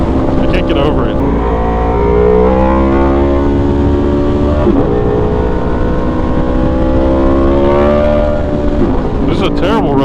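An Aprilia motorcycle engine revs hard while being ridden on a rough road, rising and falling in long climbing pitch sweeps through the gears, loud and close with steady wind rumble.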